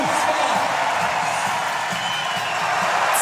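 A crowd roars and cheers loudly at a bouldering competition as a climber makes a dynamic move, with a dense continuous wash of voices and a commentator talking over it.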